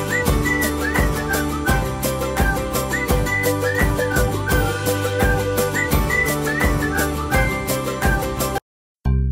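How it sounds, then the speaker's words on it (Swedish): A harmonica plays a lively, rhythmic tune of pulsing reedy chords and melody notes, bright and continuous, then breaks off abruptly near the end. "Munspel."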